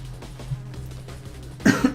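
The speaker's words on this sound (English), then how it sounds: "Sorry about me coughing from time to time" A single rough cough bursts out near the end of a quiet stretch from a streamer with a persistent cough, over a low electrical hum.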